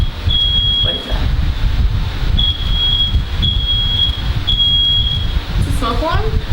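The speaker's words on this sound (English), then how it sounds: "My smoke detector was going off" A home smoke detector shrills in repeated high-pitched electronic beeps, some long and some short, over a steady low rumble, with a voice briefly heard near the end.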